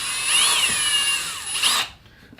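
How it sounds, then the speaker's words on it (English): Short, loud whine of a power driver spinning a metal screw into an aluminum brace on a 2018 Arrma Talion RC car, running steadily for under two seconds and cutting off abruptly. "this is a metal screw and we're screwing into an aluminum brace now instead of plastic"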